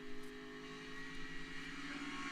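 NASCAR Xfinity Series race car at Homestead building up throttle, a steady droning engine tone heard at a distance and rising slightly in pitch over a couple of seconds.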